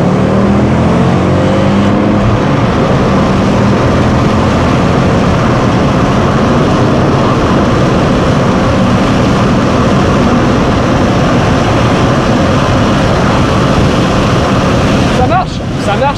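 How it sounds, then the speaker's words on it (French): Ford Focus ST five-cylinder engine revving under acceleration, a loud, steady, rich engine drone that holds for about fifteen seconds before easing at the end, with no voices over it. "on va essayer de faire une petite accélération pour essayer d'entendre ce fameux 5 cylindres"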